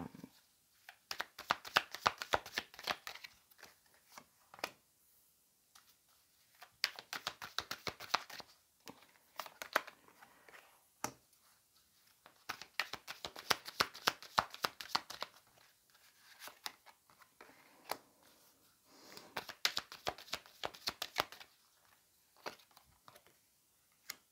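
Tarot cards are shuffled by hand for a reading: quiet, close bursts of crisp riffling and slapping come in clusters of several seconds, separated by short pauses, with no talk.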